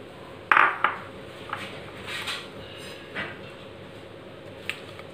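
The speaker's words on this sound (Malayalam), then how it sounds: "ഈ അരിഞ്ഞു വെച്ച കായ നമുക്ക് കുക്കറിലേക്ക് ഇട്ട് കൊടുക്കാം" Chopped raw plantain pieces are tipped into a pressure cooker while making beef with plantain. Close metallic clinks and knocks sound, a sharp cluster first and then scattered lighter taps, with no talk.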